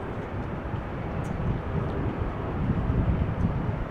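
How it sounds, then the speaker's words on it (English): Cargolux Boeing 747 taxiing near the end of the center runway at Amsterdam Schiphol, heard as a steady, broad low rumble of jet engines with breezy wind buffeting the microphone throughout. "Now the Cargolux 747 is approaching the end of the center runway"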